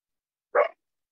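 A single short dog bark, sharp and fairly close, alone in silence.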